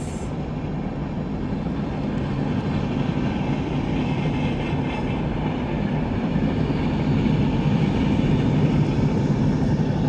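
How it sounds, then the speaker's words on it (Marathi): A continuous heavy rumble of a Konkan Railway Tejas Express passenger train rolling past nearby, steady and loud throughout, with a faint high whine on top. "आणि आता समोरून कोकण रेल्वे येतात"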